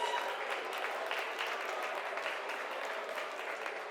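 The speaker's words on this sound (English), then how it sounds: "Let's give our sponsors a big round of applause" Steady applause from a crowd at a vintage pin-up pageant during a 2023 summer roundup event, a continuous dense patter of clapping holding at an even level throughout with no talking.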